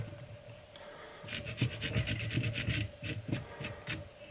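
A small brush is scrubbed briskly over fly tying dubbing on a steelhead spey fly, giving a burst of rapid, close, raspy rubbing strokes after a quiet start.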